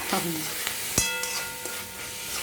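Fenugreek leaves fry in hot oil with a steady crackling sizzle. A spoon stirring through the pan adds a few sharp clinks and scrapes along the way.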